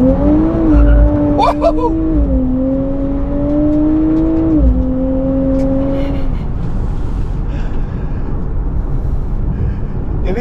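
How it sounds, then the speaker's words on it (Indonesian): A Nissan Fairlady Z Nismo with a turbo engine launches with launch control on a hot day, its engine note rising and holding with a brief tyre chirp, loud and close, then fading as it pulls away; a voice briefly exclaims. "sekarang kita coba akselerasinya dulu. Launch control."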